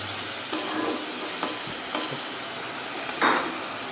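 Onions frying in a pan for a butter paneer and catla fish kalia, a steady sizzle punctuated by several spatula taps and scrapes against the pan.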